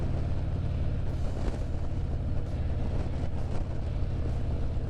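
Harley-Davidson Road Glide motorcycle with a power cam idling steadily, a smooth, mellow, continuous engine rumble close by with no talking.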